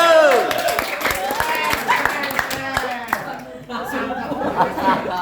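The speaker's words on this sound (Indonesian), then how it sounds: "Kasih tepuk tangan Kak Sulfur" A crowd claps scattered applause amid lively chatter and some laughter, voices overlapping throughout.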